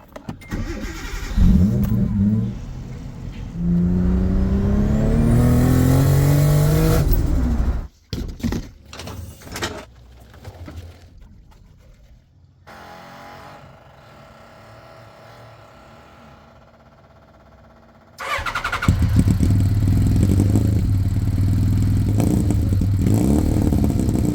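A Ninja 1100cc motorcycle engine swapped into a rear-wheel-drive Honda, running short of fuel, revs up and down roughly up close, then stutters and cuts out, sits in a quieter stretch, and roars back to a steady run.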